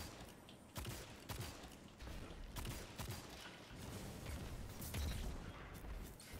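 Gunfire in Destiny 2 PvP with the Tatara Gaze sniper rifle, heard as repeated sharp shots and bursts among a busy mix of game noise, with faint voices underneath.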